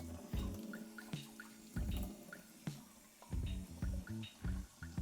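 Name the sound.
regular water poured into a cup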